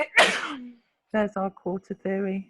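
A single sharp sneeze bursts out, followed after a short pause by a person talking.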